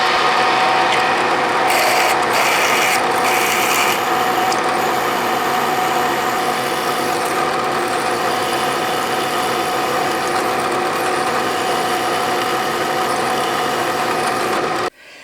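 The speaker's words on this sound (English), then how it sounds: "And let's drill the 1/4 inch pilot." A 1/4 inch pilot hole being drilled on a milling machine, a steady loud mechanical whir with gear and ratchet-like clatter running continuously before stopping abruptly at the end.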